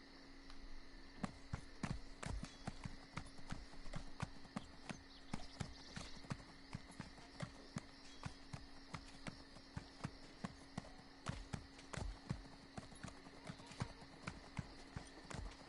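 Steed hooves clip-clop in steady, evenly spaced beats through The Elder Scrolls Online, sharp and close over a constant low hum of ambient game sound, with no voices.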